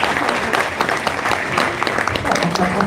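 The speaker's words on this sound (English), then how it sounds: "please give a round of applause" Audience applause for the company dancers during gala night aboard the cruise ship Queen Victoria, a steady wash of many hands clapping at close to moderate distance, with a voice talking faintly over it.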